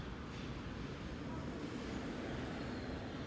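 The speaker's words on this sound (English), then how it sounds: "Ugh, so loud, the train." A loud passing train heard indoors at night, a steady broadband rumble dominated by low-frequency roar that holds constant for the whole stretch.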